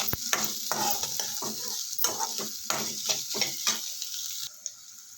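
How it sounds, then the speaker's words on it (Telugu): Chopped ginger pieces fry in a pan with a steady, close sizzle, broken by repeated stirring scrapes and clicks of a spoon before the sizzle eases near the end. "తర్వాత మనం కట్ చేసి పెట్టుకున్న అల్లం ముక్కలు కూడా వేసేసుకుందాం."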